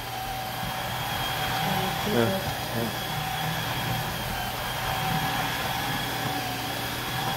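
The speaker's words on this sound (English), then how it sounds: "I think this Dreametech is a little quieter than the stick vac" A Dreametech wet-dry floor vacuum drones on throughout, a broad constant whir with a low hum, moderately loud and close, with faint voices murmuring underneath.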